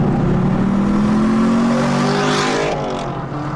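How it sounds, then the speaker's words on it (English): A 2018 Camaro SS 1LE with a 6.2 liter V8 accelerates, its exhaust note rising steadily in pitch with road noise underneath, loud and continuous before easing off near the end. "you hear the noise of the road, you hear the noise of the exhaust"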